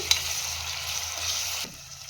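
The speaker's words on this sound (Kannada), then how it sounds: "ಟೊಮೆಟೊ ಸಾಫ್ಟ್ ಆಗೋವರೆಗೂ ಫ್ರೈ ಮಾಡ್ಕೊಬೇಕು" Onion, mint and tomato frying in a pan for goat leg soup, a soft continuous sizzle with a faint stir, ending in a quick clunk before it quiets.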